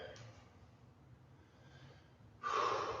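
Sharp nasal inhales and exhales from someone breathing through the nose during a leg workout, soft at first and then a louder, close breath near the end.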